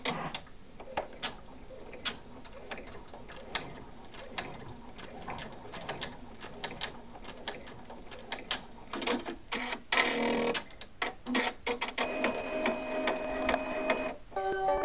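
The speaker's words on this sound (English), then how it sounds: "So we're going to run that tack down stitch." A sewing machine runs a tack-down stitch through fabric to hold a stuffed reindeer antler in place, giving a steady ticking, rattling whir that speeds up in the final seconds.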